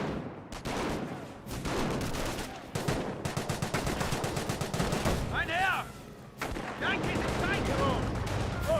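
Rapid bursts of gunfire and artillery crack through a Company of Heroes battle, dense and continuous, mixed with explosions and unit chatter in the background.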